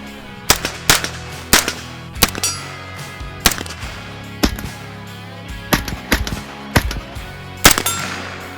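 Repeated gunshots from an SP5 firearm, loud and close, fired as single sharp cracks in an uneven rhythm of about a dozen shots with brief echoes between them.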